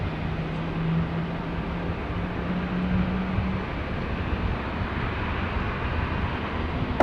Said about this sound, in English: Okay, now the A330 starting up now.